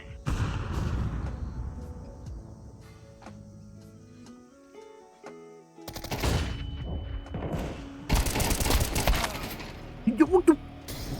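A flashbang lands in a video game shooter, a sharp burst followed by loud crackling gunfire-like blasts and booms, with a brief quiet stretch before the noisy bursts.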